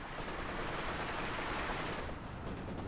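Gunfire in Company of Heroes 2 sounds as a dense, continuous wash of battlefield noise with rattling shots and distant blasts, steady and fairly faint throughout.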